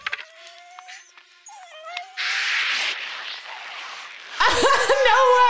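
Dog barking and howling in a scene from the 1994 film The Mask, with whimpering, rising howl-like tones and a louder burst of barking near the end, alongside bursts of noisy action sound.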